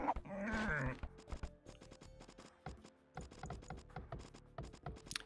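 A sheep bleats once in a strategy video game tournament match, then quick clicks and mechanical game effects patter on quietly.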